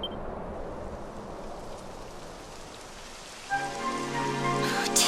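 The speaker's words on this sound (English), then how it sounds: "It would have to go and start raining, wouldn't it?" Steady rain starting in the video game Dragon Quest XI, a dense, continuous patter on surfaces that holds through the whole stretch, joined by a sustained tonal game music layer near the end, with no talking.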